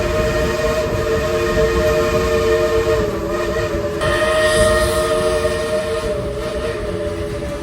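Dollywood Express historic steam train, engine number 70, heard from on board as a steady, loud rolling rumble and clatter of rail cars, with a sustained whistle tone running throughout.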